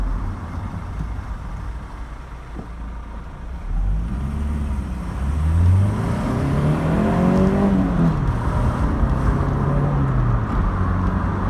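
A 1986 Vauxhall Cavalier mk2 on a country drive: a moderately loud in-car engine drone that rises and falls as the car accelerates and shifts gears, with road rumble underneath and no voices.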